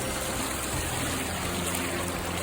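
Seneca Creek in the backcountry rushes steadily and close by during a late April winter storm, a continuous broadband wash of flowing water with no other sounds.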